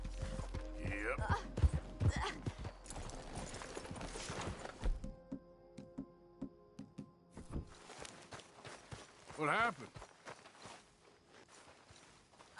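Horse hooves clopping and thudding in Red Dead Redemption 2, uneven and close, with a short whinny-like cry near the end, mixed with game noise and a voice talking over it.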